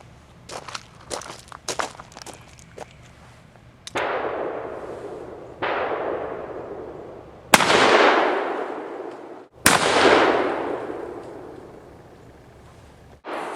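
A Ruger Old Army revolver with a 7.5 inch barrel fires 225 grain conicals over 30 grains of 777 powder, four loud, booming shots with long reverberant decays, preceded by quieter clicks and handling clatter.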